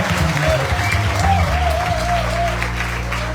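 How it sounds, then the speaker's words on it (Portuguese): A church congregation claps during a worship service, a steady dense wash of applause with low sustained music or organ tones underneath and a faint voice rising briefly over it. "Vamos celebrar o nosso Deus com uma salva de palmas."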